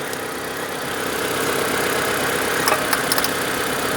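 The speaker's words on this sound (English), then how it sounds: "It's running weak on number 1 cylinder." A Proton Satria car engine with low compression idles unevenly, running weak on its number one cylinder, giving a steady close rumble with a few sharper ticks near the end and no talking.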